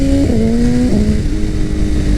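A BMW S1000RR sportbike engine revs up loudly and close, its tone rising in pitch with a shift partway through, then settling into a steady high drone with wind rush.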